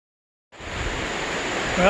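Shallow Kluane Creek in Kluane Park flows with a steady broadband rush that begins abruptly after a half-second of silence and stays loud and continuous.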